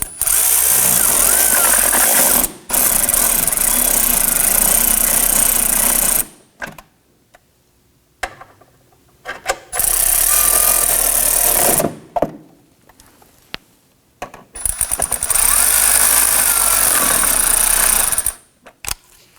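A power tool on a 2018-2024 Toyota Camry drives fasteners up through the fender liner in three long, loud, close whirring bursts, separated by pauses with small clicks and handling noise.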